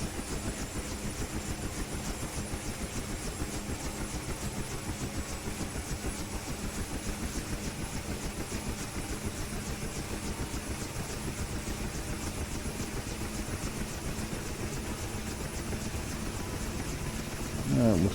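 A Huey helicopter engine spooling up in the DCS flight simulator, a steady loud droning whine with a fast rotor chop that runs unbroken throughout and swells briefly at the very end.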